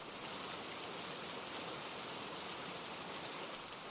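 Rain falls in a quiet, even, continuous patter, with no voices over it.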